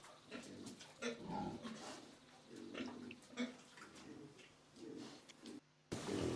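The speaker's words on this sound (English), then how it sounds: "Pigs wander freely in the garage compound" Pigs roaming a farm compound at a children's home in Zambia give low grunts and snuffles in irregular bursts, fairly close, with a brief dropout near the end.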